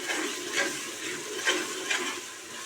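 Chicken biryani masala with ginger and garlic sizzles steadily in a pot while a spoon scrapes through it in three or four stirring strokes; no voices.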